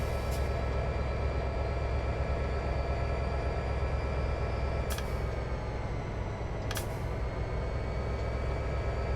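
A long Norfolk Southern SD70M-2 freight train in the Train Simulator 2015 Stevens Pass route keeps up a steady low rolling drone with tonal hum, broken by three brief sharp clicks, with no voices.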